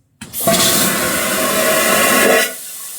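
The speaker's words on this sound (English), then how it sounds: "can we just take a second to talk about this flush?" A powerful vacuum toilet on the Star of the Seas cruise ship flushes in one loud, close, roaring whoosh lasting about two seconds, then cuts off abruptly.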